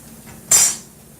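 A fried cornbread patty being flipped in a pan gives a single short, bright metallic clink and scrape over a quiet background hiss.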